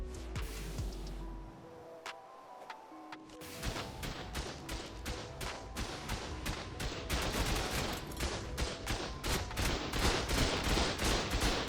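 Rapid turret tower gunfire from a base in a survival video game erupts after a short lull, building into dense, sustained bursts of loud overlapping shots that continue to the end.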